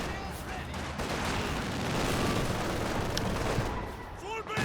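Dense, continuous gunfire and battle noise from Company of Heroes 2, with light machine guns rattling amid bursts and booms in a 2v2 match, loud and steady throughout.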